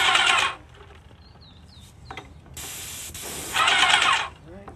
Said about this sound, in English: I'm gonna spray.